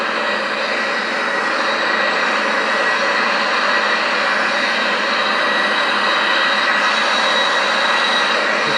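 Steady broadband roar of El Al Boeing 737-800 jet engines in Microsoft Flight Simulator X, continuous and even in level for the full stretch with no talk over it.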